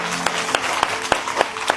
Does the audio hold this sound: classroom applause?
yes